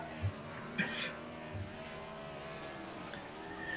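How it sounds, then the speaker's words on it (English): Race cars doing burnouts at the start-finish line of Kansas in the iRacing sim: a steady engine drone with harmonic whine, a few brief thumps early on, moderately faint and continuous without speech. "Everybody's doing burnouts at the start finish because I think it's over"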